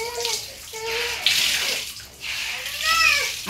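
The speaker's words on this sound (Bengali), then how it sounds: "এক বালতি কাপড় ধুইছি, পাপোশ ভিজাইছি" Water sloshes and splashes in a bucket as clothes and a doormat are washed by hand, with irregular bursts of swishing close by; a faint cat-like cry or squeak cuts through briefly.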